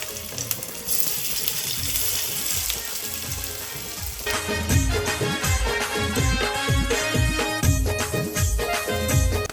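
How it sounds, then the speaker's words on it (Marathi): Alu vadi rolls fry in oil on a flat pan with a loud, continuous sizzle, and the popping and crackling grow busier and denser about halfway through and stay close and bright to the end. "तव्यावरती मस्त आपण तळून घेऊया"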